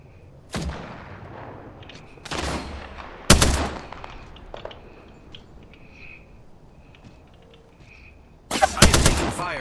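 Spitfire guns firing in a video game, heard as loud bursts of gunfire with gaps between them and a long final volley. Quieter game sounds carry on between the bursts.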